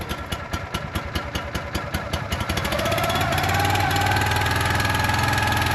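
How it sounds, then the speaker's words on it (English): A robot's pull-start gasoline engine sputters with rapid rhythmic pulses, then catches and settles into a loud, steady running drone, heard up close without speech. "So now, starting it. And then we have a pull start."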